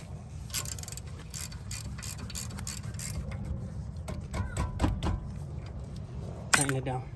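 A ratchet tightens the brake set screw on a 2012–2016 BMW 328i, with rapid clicking bursts close by, starting and stopping, and a brief clank near the end.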